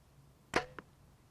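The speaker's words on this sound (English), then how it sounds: "We're gonna shoot this bow." A quiet, close twang and whoosh as a Bowtech BTX-31 compound bow releases an arrow, followed a moment later by a softer knock.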